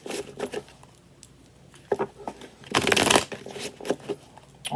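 Tarot cards shuffled by hand close up: short bursts of riffling and flicking, then a longer, louder riffle in the middle before a few softer taps, with no speaking.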